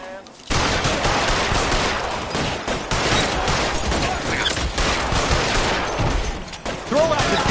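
Heavy gunfire rings out in the LA Noire video game, a dense, continuous barrage of loud shots starting after a brief quiet moment and keeping up steadily to the end.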